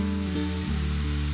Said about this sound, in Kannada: ಒಂದು ಎರಡರಿಂದ ಮೂರು ನಿಮಿಷನಾದ್ರೂ ಇದನ್ನ ಹುರ್ಕೋಬೇಕು